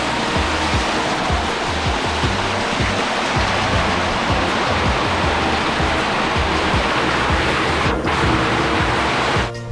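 Water pours steadily through a swimming pool skimmer with a screen fitted to catch debris, making a loud, continuous rushing splash that stays even throughout and fades slightly at the very end.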